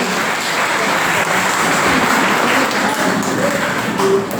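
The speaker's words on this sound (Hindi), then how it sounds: "एक बार जोरदार तालियां सभी के लिए।" Steady, dense applause from a large crowd fills the space continuously, loud and sustained throughout.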